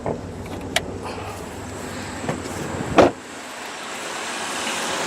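A 2001 Dodge Grand Caravan's 3.3-liter V6 engine idles steadily under a broad fan-like air conditioning hiss, with a few soft clicks and a dull thump partway through, after which the hiss drops as the AC turns off.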